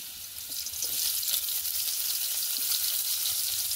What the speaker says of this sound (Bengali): কড়াইতে একটু দিয়ে দেবো তেল, রসুন থেতো করা আর কোচানো পেঁয়াজ